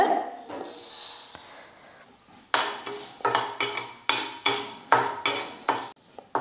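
Rice being dry-roasted in a pan for rice kanji: after a quieter start, a spoon scrapes it around in about eight regular, close strokes, each a short rattling sweep of grains against metal.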